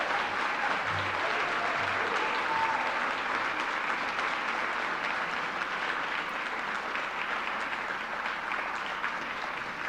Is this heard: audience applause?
yes